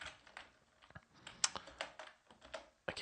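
Keys on a computer keyboard clatter in short irregular bursts, a quiet, close run of taps and pauses with no talking.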